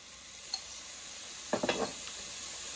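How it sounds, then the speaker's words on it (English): Minced garlic drops into a pot of softened onion and sizzles with a brief burst of crackling and stirring scrapes, over a steady low frying hiss in a home kitchen. "now we're going to add garlic"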